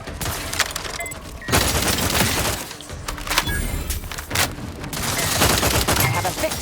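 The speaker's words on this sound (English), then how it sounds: "Stun weapon ready, Commander." Stun weapon firing in the video game The Outer Worlds 2, a loud run of rapid crackling bursts that comes in clustered volleys over several seconds, with game noise mixed in around them.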